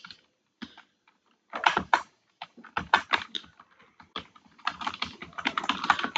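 Bursts of keyboard typing, quick clustered keystrokes in several runs separated by short pauses, close and fairly loud with no talking.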